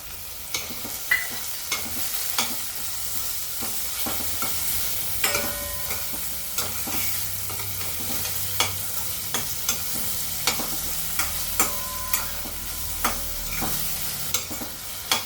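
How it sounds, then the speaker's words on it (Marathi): Fenugreek thecha frying with finely chopped tomatoes in a pan: a continuous bright sizzle punctuated by frequent clicks and scrapes of the spoon against the pan, close and steady throughout. "आता ठेसा परतला आपण टोमॅटो टाकून घेऊ टोमॅटो असं बारीक टाकून घ्यायचा"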